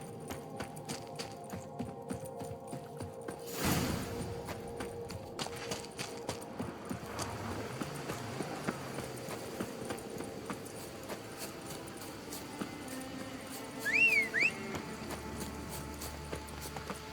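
Hooves clip-clop in a steady trotting rhythm from a horse in The Witcher III video game, faint and continuous, with a brief burst of noise early on and a short whinny-like sound near the end.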